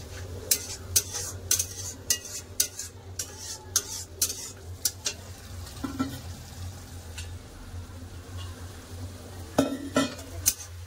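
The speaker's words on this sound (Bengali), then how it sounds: "এবার ভালো করে খুব সুন্দর করে কষে নেবো যতক্ষণ না তেল ছাড়ে" Spice paste for fish curry, with cumin, mustard and poppy seed paste, sizzles in oil while a spoon scrapes and clinks against the pan in a quick, irregular stirring rhythm, close and fairly loud.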